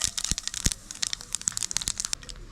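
Mustard and fenugreek seeds splutter in hot oil for a Kerala-style lemon and dates pickle. Quick, irregular crackles and pops come up close and fairly quiet, with no voices.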